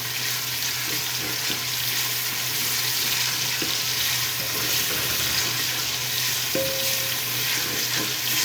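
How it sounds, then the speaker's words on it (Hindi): Garlic ginger paste fries in a pan for an aloo gosht curry, giving a steady, close sizzle throughout with occasional faint clinks and stirring. "लहसुन अदरक के पेस्ट को 4 से 5 मिनट तक"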